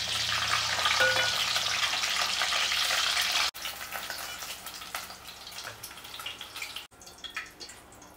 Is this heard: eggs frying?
yes